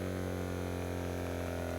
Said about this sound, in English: And this is the sound of the motor next to my microphone.